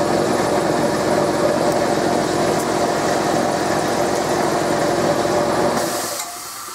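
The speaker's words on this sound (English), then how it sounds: "For my air compressor to shut off." An air compressor runs loudly and steadily near a sandblast gun setup, a constant motor drone that winds down and stops near the end.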